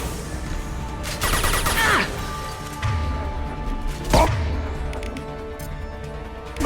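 Gunfire rings out during a Mass Effect 2 video game battle: loud bursts of rapid shots and sharp impacts, with a few heavy cracks over continuous combat noise.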